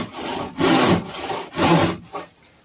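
A panel saw rip-cutting timber held in a vise, with loud, close, rhythmic rasping strokes, roughly three long pushes and pulls followed by a shorter one, alone with no voices.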